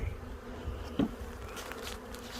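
Honeybees buzz steadily in an open hive during an inspection, a close, continuous hum with a brief louder swell, no voices over it.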